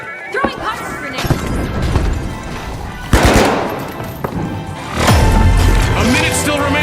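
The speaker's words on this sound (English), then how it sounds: "Throwing poison grenades." Poison grenades thrown during video game combat amid rapid gunfire, with sharp crashes and bursts of automatic fire growing louder toward the end, a busy layered mix of weapons and impacts.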